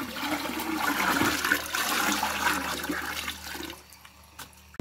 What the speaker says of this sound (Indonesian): Kita tuang lagi kawan-kawan.